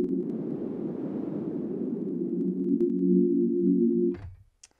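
A wavetable synthesizer sound sweeps from a broad white-noise hiss into a steady humming tone as purity rises, then cuts off abruptly with a short click.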